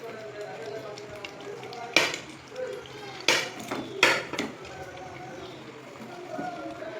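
Chicken pieces drop into a simmering curry gravy in a pot, giving a few sharp clattering thuds and splashes over a soft, steady bubbling background.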